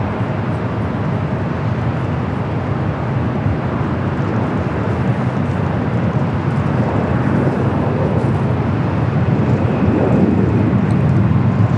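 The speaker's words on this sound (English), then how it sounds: "747-8. This is the 8. Going to be taking off there on the south side." Boeing 747-8 taking off from runway 25 left on the south side of LAX, a steady, broad jet engine roar heard from a distance that builds gradually and grows louder toward the end.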